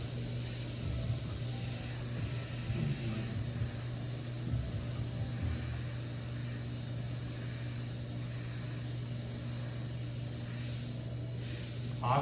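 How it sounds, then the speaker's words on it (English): Airbrush spraying red paint in an art piece, a continuous close hiss of compressed air running steadily throughout, with faint intermittent rustling underneath. "my airbrush is gonna be just blasting outward"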